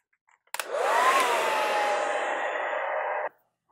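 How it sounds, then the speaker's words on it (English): A hair dryer runs in one steady, loud, close blast for about three seconds, drying paint on MDF tree bases, then cuts off abruptly. "I'm going to go ahead and pull out the old hair blower"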